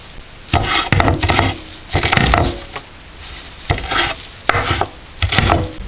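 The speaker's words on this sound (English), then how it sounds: "I'm just going to chop that up a little bit" A knife chops fresh cilantro on a board for raw cucumber soup, in irregular clusters of quick, crisp knocks separated by short pauses, close and clear with no talking.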